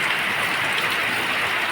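Heavy rain pours steadily in Bharuch, a dense, even hiss of water falling on surfaces nearby with no break.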